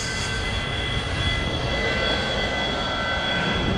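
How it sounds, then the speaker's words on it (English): A Blue Hawaiian tour helicopter flying over Oahu gives a steady, close engine and rotor drone with a faint high whine, continuous and loud throughout, with no talking. "we're taking a tour around Oahu in a helicopter"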